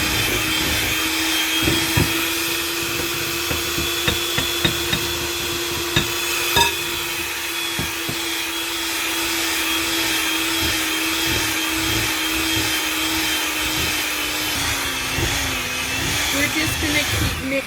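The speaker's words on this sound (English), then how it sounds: "because I'm using this mixer, I don't want a lot of things flying all over" Electric hand mixer beating icing sugar into chocolate frosting for brownies, a steady close whirring drone running throughout with light clattering bumps of the beaters against the bowl.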